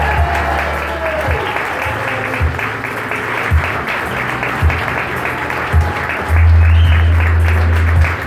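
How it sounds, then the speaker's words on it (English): Wedding guests at a reception applaud as the bride's parents enter, steady, full clapping throughout, with music thumping and a voice speaking over the applause. "Keep that applause warm,"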